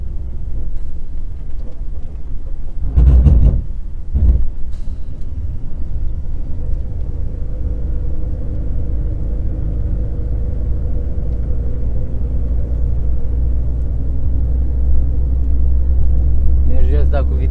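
Car engine on a mountain road through Întorsura Buzăului, a steady low rumble throughout with a couple of brief loud bursts near the start, under a voice.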